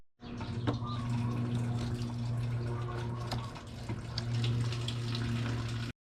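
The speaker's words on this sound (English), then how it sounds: "draining the radiator. So I'm going to be opening up this drain plug." Coolant draining from an opened radiator drain plug, a steady close liquid pour with splashing and trickling, continuous and fairly loud with no speech.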